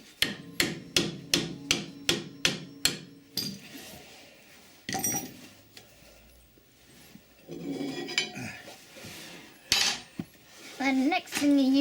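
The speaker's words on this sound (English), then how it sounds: "And next thing, you're using the bigger hammer." Hammering on metal parts while refitting the rear suspension of a Triumph Vitesse, a rapid run of about ten sharp metallic blows, then scattered clanks and knocks of tools and parts, with brief voice sounds near the end.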